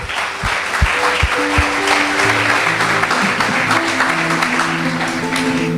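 A church congregation applauds during a sermon, with a few sharp claps at the start that swell into sustained clapping while sustained organ or keyboard tones play underneath.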